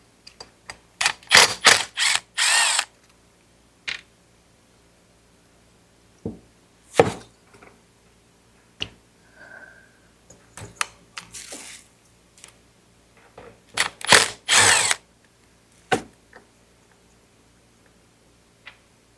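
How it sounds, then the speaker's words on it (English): Ignition coil coming off a Husqvarna 141 chainsaw during a full teardown: scattered sharp metallic ticks and clicks of tools and small parts, with a few clustered bursts and quiet gaps between them. "Take off the coil."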